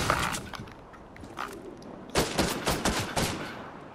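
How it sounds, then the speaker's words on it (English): Bursts of gunfire from a new gun in Fortnite: a few scattered shots, then a rapid rattling string of loud, close, sharp reports near the end, with no voice over them. "What a nice attempt at shooting me."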